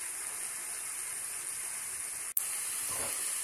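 Onions fry in a pan for a dhaba-style spicy egg dish, making a steady close sizzling hiss broken by one sharp click partway through.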